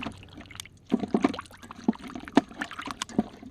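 Water poured over pieces of fish being washed for a tamarind fish curry, heard as a few close splashing pours and drips in uneven bursts, with soft handling noise between them.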